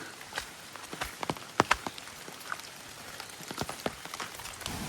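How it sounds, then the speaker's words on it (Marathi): Light drizzle patters on surfaces outdoors near a stream, scattered soft drops and occasional sharper ticks over a quiet wet background. "पावसाची रिपरिप सुरूच असा."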